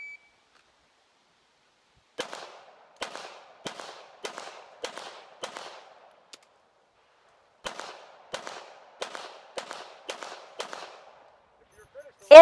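Pistol shots during a USPSA El Prez stage at the 2015 Area 7 match: two quick strings of sharp, close reports in even rhythm, about six shots each, separated by a short pause for the reload.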